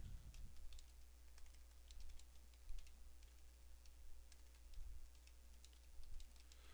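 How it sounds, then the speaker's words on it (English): Typing on a computer keyboard, a quiet, irregular patter of close key clicks in short bursts over a low steady hum, with no talking. "I just have to type."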